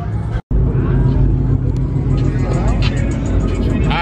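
A car cruising through T-Town toward a car meet, with a steady low engine and road rumble that stays loud and close throughout, and voices faintly present over it.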